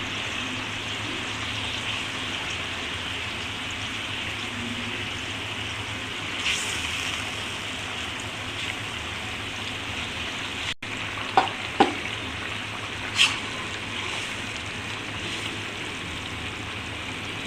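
Rohu fish pieces slide into a simmering curry, giving a steady close sizzle and bubbling with a few sharp clinks of utensils near the end, no voices.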